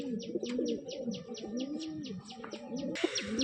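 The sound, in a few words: giribaz pigeons cooing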